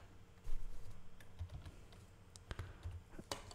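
Keys tapped on a computer keyboard while entering a search term into a filter field, a short burst of light clicks with a steady low hum underneath.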